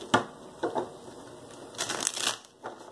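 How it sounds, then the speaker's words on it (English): Tarot cards are shuffled close up in a few quick riffling bursts, with short pauses between them. "3 more shuffles here."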